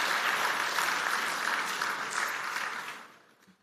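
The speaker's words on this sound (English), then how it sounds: "Yes, I would invite you to clap for that." Audience applause at a regular meeting of the CARICOM heads of government, a dense sustained clapping that fades out toward the end, with no voices.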